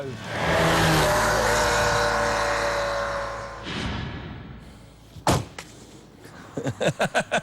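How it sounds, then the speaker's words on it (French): Ferrari 348 V8 rear-engined supercar in Italy, a strong engine roar that swells and then fades, followed by a few sharp knocks and short bursts near the end. "Je suis à présent au volant d'une véritable supercar, la légendaire Ferrari 348."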